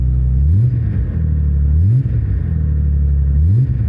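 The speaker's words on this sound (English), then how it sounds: "Have a listen first, I'll give you a rev." A car with poor motor mounts and a modified exhaust, revved three times at close range, each rev climbing sharply from a loud rumbling idle before dropping back.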